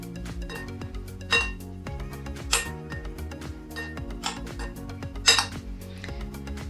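A utensil tosses salad for kabab-roll wraps in a bowl, giving a steady patter of light clinks and taps against the dish, with a few sharper knocks standing out.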